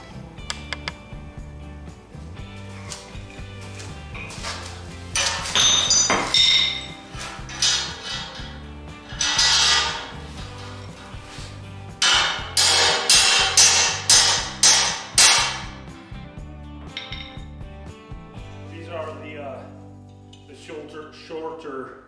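Metal part being hammered on a corner anvil during a dump trailer repair, bursts of ringing metallic strikes in quick clusters with pauses between, and someone talking in between.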